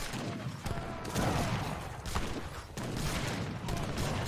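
Cannon volleys fire in a large video game battle during a royal clan free-for-all event, a dense, rumbling stream of blasts and clatter, with commentators talking over the din.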